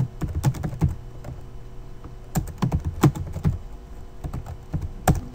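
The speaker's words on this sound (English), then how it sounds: "And I will type them in one at a time." Fingers tapping a computer keyboard nearby, bursts of quick clicky keystrokes separated by short pauses, with no talking.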